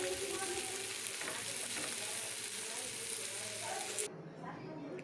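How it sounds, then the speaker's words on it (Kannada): Shavige palya, rice vermicelli, sizzles steadily in hot oil in a pan while it is stirred, with a continuous close crackle that drops suddenly near the end as the heat eases. "ಫ್ರೈ ಹಾಕೋರಿ ಚಂದಗೆ."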